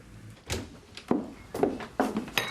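A door opens in a domestic drama scene as someone walks in without knocking, with a series of close thumps and handle rattles in an uneven rhythm and no speech.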